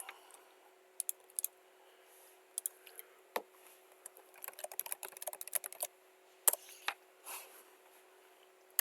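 Scattered clicks of a computer keyboard, isolated keystrokes at first, then a quick run of typing before it trails off into a few final taps, close and fairly quiet.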